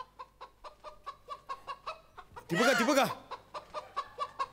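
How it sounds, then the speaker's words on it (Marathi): A jungle fowl clucks in a steady run of short, sharp calls on a comedy stage, broken midway by a loud burst of crowd laughter or noise before the clucking resumes; a person speaks briefly. "कोकिळीच्या आवाजावरती रान कोंबडी आली आहे."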